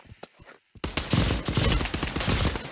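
A Russian grenade detonates in the WW2 setting of the video game Pavlov: after a brief near-quiet lull, a sudden loud, close blast erupts into a dense, crackling roar that stays loud and continuous to the end.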